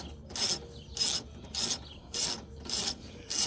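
A ratchet wrench loosens the 17 mm metric tailgate bolts on a KRX 1000 side-by-side. Six evenly spaced bursts of ratcheting clicks come up close and fairly loud, with no talking.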